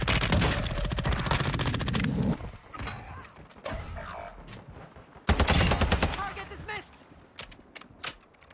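Rapid automatic gunfire in the video game Fortnite, dense bursts of shots in two long volleys with scattered single shots between, loud and close, with a player's voice talking over parts.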